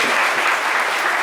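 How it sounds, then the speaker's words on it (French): A studio audience on a midday television show claps in a brief, dense burst of steady applause with no voices. "On peut applaudir les nés du jeudi."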